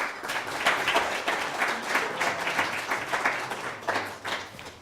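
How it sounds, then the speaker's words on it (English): An audience at an evening faith talk applauds a guest speaker, with dense, sustained clapping from a sizable crowd that holds steady for several seconds before thinning slightly. "please give Deacon a round of applause"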